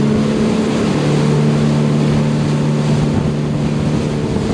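A 2022 Invictus GT320 motorboat cruises on open water with a loud, steady engine drone, constant hull and wind rush layered over the motor, and no talking.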